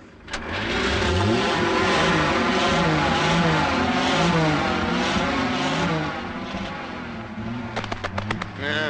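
A car engine starting up after being repaired, roaring to life and running loudly at a rising, revving idle nearby, then settling and sputtering toward the end with faint voices underneath.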